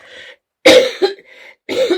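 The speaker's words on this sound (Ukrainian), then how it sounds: "Ну, вибачайте, кашлюємо ще." Several harsh coughs from one person close to the microphone: a short cough, a burst of louder coughing, then another cough, separated by brief quiet gaps, with no talk.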